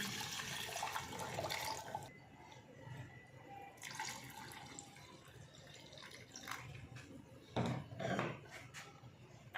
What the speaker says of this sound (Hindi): इसमें 2 गिलास पानी डाल देंगे